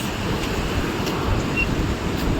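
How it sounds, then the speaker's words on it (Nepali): Steady wind blows in a low, rushing roar that never lets up, with no voices, near Khangla Pass. "हावा चल्यो सरर"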